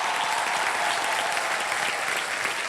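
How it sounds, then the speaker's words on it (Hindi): A studio audience on a TV game show breaks into loud, dense applause, continuous and even throughout, a full crowd clapping close by. "चारपाई इज द राइट आंसर। बहुत जोरदार तालियां।"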